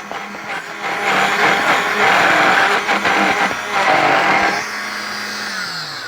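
A blender churns pineapple into ice cream for homemade Dole Whip, a loud steady motor whir that strains and surges as the thick mix catches, then drops to a lower whine near the end, no voices.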